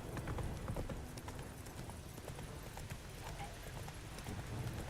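Horse hooves clip-clopping in The Witcher 3: Wild Hunt, a steady, fast patter of hoof beats on the ground under a low ambient rumble, faint and continuous.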